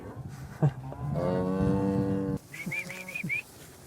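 Dairy cows bred for milk for cheesemaking moo on a farm: one long, loud, drawn-out low moo, then a brief pause and a string of shorter, higher calls close by.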